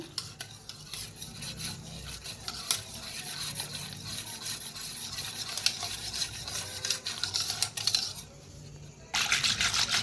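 Thick buttermilk pithla batter is stirred to break up lumps, giving a steady, close scraping and swishing that keeps going the whole time, with a short pause near the end.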